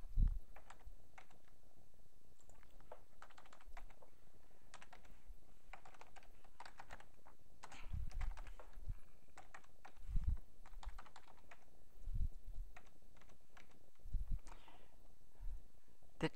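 Computer keyboard typing while entering details into a real estate listing form, a steady run of close, crisp key clicks with short pauses and a few heavier keystrokes.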